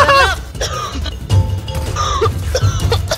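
Someone coughs repeatedly in short harsh bursts during a Fortnite match, broken up by brief vocal noises and game sounds.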